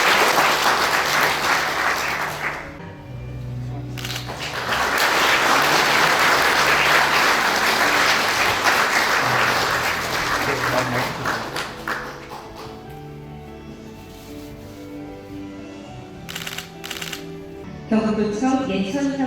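Audience applause at a Korean provincial government retirement ceremony during a plaque presentation, a loud sustained burst of clapping that swells, fades under music, then returns near the end.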